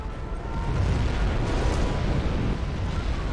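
A nuclear missile explosion in Command & Conquer Generals Zero Hour, heard as a dense, sustained roaring rumble with heavy low-end boom that stays loud and unbroken for several seconds.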